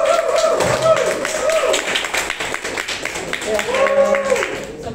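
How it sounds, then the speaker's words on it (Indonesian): Audience applause at a seminar session, a dense patter of clapping that runs the whole stretch, mixed with a speaking voice and a faint tonal backdrop. "Aplaus dulu bagi dia."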